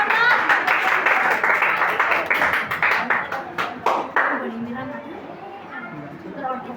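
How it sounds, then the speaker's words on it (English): An audience applauds a contestant at a school news reading competition: dense clapping that slowly fades, with a voice speaking over it. "Give her huge round of applause."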